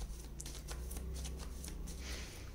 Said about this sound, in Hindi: चलिए और कार्ड्स निकालते हैं नेक्स्ट एक्शन के लिए